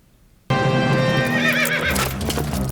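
Horses neigh loudly and whinny close up in a film scene, with hooves clip-clopping underneath; a sudden burst of sound after brief near-silence, sustained and full to the end.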